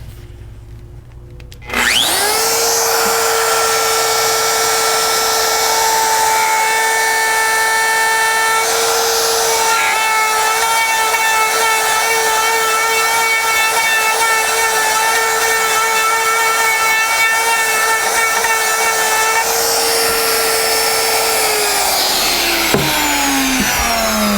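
A router spins up abruptly and then holds a loud, steady whine as its bit cuts a quarter-inch-deep pass through wood, with a faint rise near the end before it winds down.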